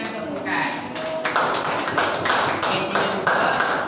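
Classroom of Year 3 pupils clapping in a lively, rhythmic burst for a Malay language lesson, crisp nearby claps repeating steadily, with a voice chanting alongside.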